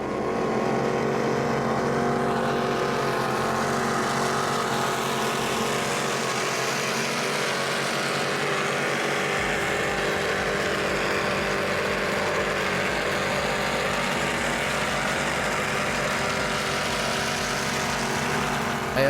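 A Nortec Supercat 3600 catamaran powerboat runs at speed during a poker run, its engines producing a loud, continuous roar with wind and water rush that holds steady for the whole stretch.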